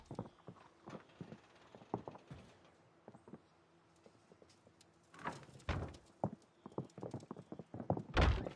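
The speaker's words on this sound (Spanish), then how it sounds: "Parecen caballos dentro de la casa." Horse hooves clip-clopping in repeated bursts of knocking steps, moderately loud and close, with quieter gaps between clusters and no talk.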